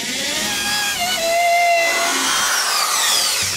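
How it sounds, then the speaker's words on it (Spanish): A power drill boring a hole into a wooden dowel for a homemade floating wall hanger, steady loud whine that rises and falls in pitch, close and alone without talk. "ahora simplemente vamos a taladrearlo."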